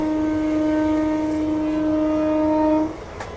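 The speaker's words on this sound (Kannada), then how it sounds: "ಬೆಳಿಗ್ಗೆ ಈ ಟ್ರೈನ್ ಜರ್ನಿ ಟ್ರಾವೆಲ್ ಮಾಡೋದ್ರಿಂದ ತುಂಬ ಸೂಪರ್ ಆಗಿರುತ್ತೆ" A passenger train from Munirabad to Ballari hums steadily with a sustained tonal horn-like drone, then the tone cuts off and rumbling continues more quietly.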